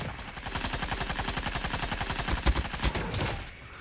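A light machine gun is hip-fired in a first-person shooter, a rapid, even burst of close gunshots that holds steady for several seconds before the firing stops, with no voices.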